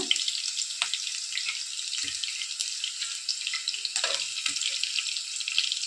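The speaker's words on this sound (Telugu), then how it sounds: "ఇది కానీ కొంచెం ఫ్రై చేసుకోవాలన్నమాట అందుకని చేస్తున్నాం" Grated carrot and ragi flour fry in a pan with a steady, close hiss, with a few soft scrapes and knocks of stirring breaking in now and then.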